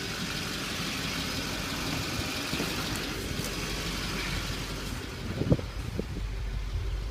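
A 2007 Chevy Silverado 3500 dually pickup with a diesel engine idles steadily close by, a low continuous rumble with a few brief clunks and louder knocks toward the end, no voices.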